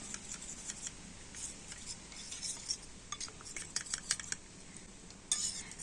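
A spoon clinks and scrapes faintly against a bowl as custard powder is stirred into cold milk, light irregular taps and swirls with no one speaking.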